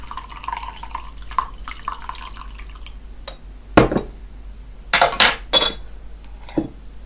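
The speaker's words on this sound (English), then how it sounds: "Got a bit of a rattly teapot here, apologies for that" Green tea is stirred in a rattly teapot, giving a few sharp clinks and rattles of ceramic, close and fairly quiet, in separate bursts over a faint background hiss.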